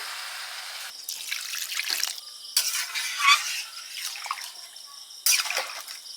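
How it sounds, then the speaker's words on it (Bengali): Water is poured into a pan of silver cup fish curry with aubergine, giving several short splashing, sizzling bursts separated by quieter gaps. "তেল ছেড়েছে জল দিয়ে দিচ্ছি"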